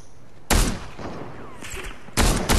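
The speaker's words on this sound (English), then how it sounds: "They're sniping me!" Gunfire in the Fortnite video game, played on a PS4 Slim, comes as sharp loud bursts of shots at the start and again near the end, with quieter battle ambience between them.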